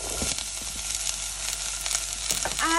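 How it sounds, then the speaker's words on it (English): Chopped vegetables and green peas sizzle steadily in a hot pan while being stirred, a continuous close frying hiss with soft scrapes of the spoon throughout. "Just stir it for a few seconds. You can see I'm stirring them."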